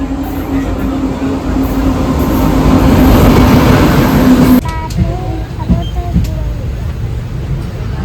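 A train ride rumbles loudly and steadily with a low hum for several seconds. Then it drops abruptly to a quieter rattling background.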